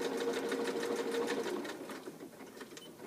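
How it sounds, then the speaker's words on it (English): A home sewing machine runs a zigzag stitch with a backstitch on elastic shorts, its rapid steady mechanical clatter close and clear for about a second and a half before slowing and softening. "I'm going to sew zigzag with a back stitch"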